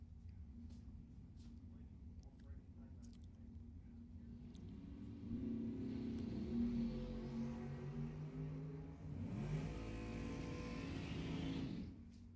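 A Corvette and a dragster race at a drag strip, a low engine rumble heard at a distance that swells into a louder roaring pass midway and again near the end, with the racers' revving under faint background noise.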